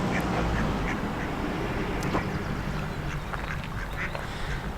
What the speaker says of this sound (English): we even got the ducks out this morning as well